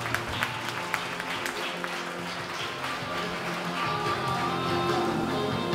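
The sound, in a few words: applause for three children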